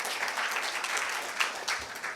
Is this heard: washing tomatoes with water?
no